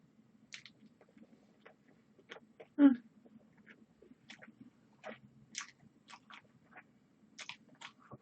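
Someone bites and chews jalapeño mayo pizza close up, with one loud crunchy bite followed by a run of soft, wet, irregular chewing sounds in an otherwise quiet room.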